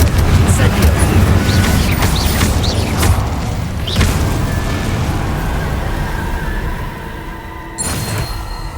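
Confringo and Incendio fire spells bursting in Hogwarts Legacy: a loud, continuous run of booming blasts and whooshing fire, several strong hits early, then easing off.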